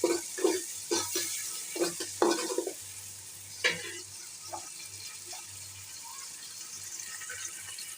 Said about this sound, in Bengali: আমি তেলের সাথে ভেজে নেব।